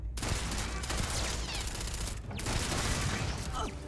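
Turrets in the video game Starfield fire in dense, continuous bursts of gunfire that carry on loudly for several seconds with a brief break midway.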